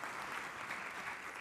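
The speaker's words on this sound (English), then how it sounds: "please, round of applause for Tejas Kumar, everyone" Steady audience applause for a speaker at a web design conference in New York, a dense even wash of many hands clapping, moderately distant and with no voices over it.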